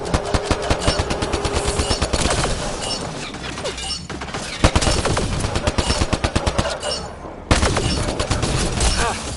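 Rapid bursts of automatic gunfire from enemies in the sci-fi video game Mass Effect Andromeda, dense and loud throughout, with rattling volleys broken by a brief pause before resuming.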